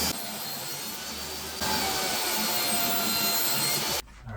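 A table saw fitted with a crosscut sled slices through wooden tray rails: a steady, loud whining cut that swells in intensity midway, then cuts off abruptly as the blade winds down, with no talking over it.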